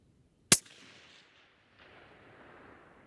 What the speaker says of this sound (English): There's a dead center shot.